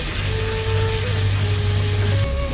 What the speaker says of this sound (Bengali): এবার দেওয়া হচ্ছে আদার পেস্ট